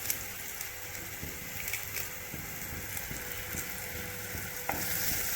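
Onion and curry leaves fry in a pan with a steady, broadband sizzle, punctuated by soft clicks and scrapes as they are stirred, continuous and close with no talking.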